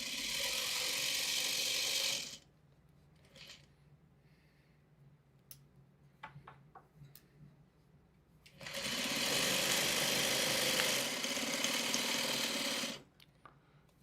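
Sewing machine stitching fabric around a corner, two loud steady runs at start and end separated by a quieter pause with small clicks of turning the fabric.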